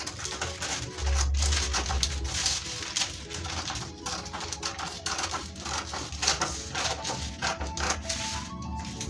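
Scissors snip through dress fabric for a maxi dress, a run of soft, rhythmic cutting clicks with a brief low thud near the start, close and fairly faint, with no talking.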